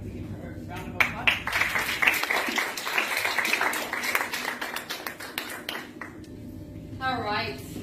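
Audience applause welcoming a speaker at a talk, a burst of scattered clapping from a crowd that builds quickly, keeps up steadily, then thins out before a voice begins.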